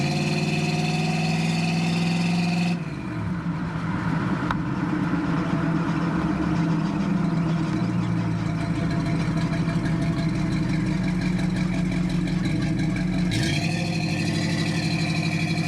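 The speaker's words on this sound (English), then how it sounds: "we are in my 1967 Pontiac Firebird Convertible, 326 and an automatic transmission" A 1967 Pontiac Firebird Convertible with a 326 V8 and automatic transmission idles steadily up close, a continuous low rumble with a brief dip in the note early on and no talking.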